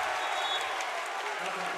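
Cheering and applause from a basketball crowd and student section at an Elite 8 playoff game fill the arena as a steady, dense roar without breaks.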